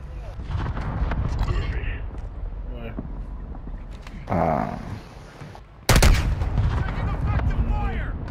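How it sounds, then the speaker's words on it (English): Airstrike explosions in Call of Duty: Modern Warfare II: heavy booms and rumbling blasts with a sudden loud impact, mixed with gunfire, under near-constant talking. "Friendly airstrike on the way."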